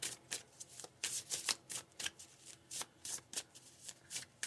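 Oracle cards are shuffled by hand in quick, rhythmic riffling bursts, close and fairly soft, with short pauses between strokes and no talking.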